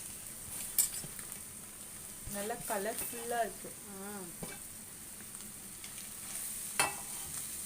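Egg kothu chapati with cut chapati pieces being stir-fried and mixed in a pan, with a steady low sizzle and occasional scrapes and clinks of a utensil, while someone speaks briefly over it.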